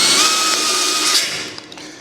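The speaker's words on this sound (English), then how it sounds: "it's nice having an extension on your drill or on your drill motor" A cordless drill fitted with an extension drives screws into a Recteq Deck Boss 800 grill during assembly, a loud high whirr that stops abruptly, followed by a few faint clicks.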